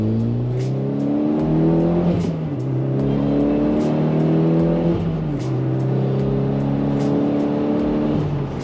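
A Mitsubishi Evo X accelerates hard through the gears, its turbocharged engine revving up in a series of rising pulls broken by brief shift dips. It is loud, sustained and close, with no talk.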